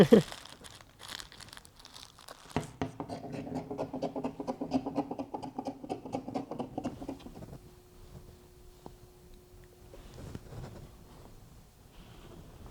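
Reflectix insulation and fabric are cut for DIY car window covers, giving dense crinkling and rustling with sharp snips, loud and close, that fades into quieter handling toward the end.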